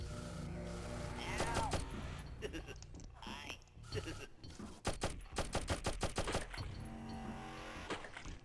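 Gunfire in the 1995 PlayStation game Demo One: bursts of rapid shots and sharp repeated cracks mixed with game music and effects, loud and dense throughout.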